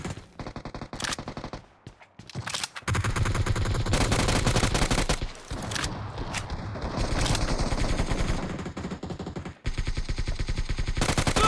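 Rapid automatic gunfire from the battle royale game BGMI rattles in loud, sustained bursts, with short pauses between volleys and no talking.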